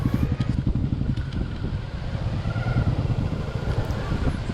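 Motorcycles rumble at low revs while arriving and being parked at the base of a trek to the Kondhane Buddhist caves near Karjat, a steady pulsing engine sound with some wind noise and faint voices.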